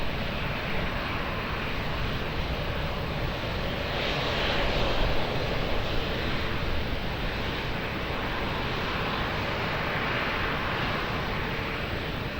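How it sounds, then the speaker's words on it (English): An Airbus A321 jet rolls for departure at Lisbon Airport: a steady, loud, broadband engine roar that swells slightly midway and holds without pause, with no voices. "1105, Airbus 321 rolling for departure"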